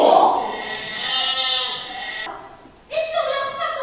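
An actor in a stage comedy imitates bleating sheep in song, with wavering, nasal baa-like vocal tones. A short pause comes before a second burst of bleating.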